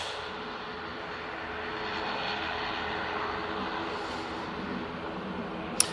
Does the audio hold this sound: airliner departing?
yes